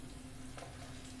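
Onion petals go into a frying pan with chili chicken, a faint, steady sizzle with a soft scrape or drop in the middle, quiet and without talk.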